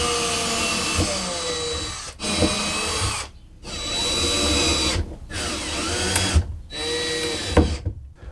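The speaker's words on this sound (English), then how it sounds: "drill new pilot holes, and screw them back in." Close, loud bursts of a power drill whirring and revving while drilling pilot holes during an RV bed gas spring lift install, each several seconds long, separated by short pauses.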